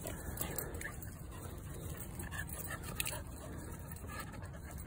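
A dog pants quickly and lets out soft whimpers close by, a continuous breathy rhythm with faint whines over quiet room noise.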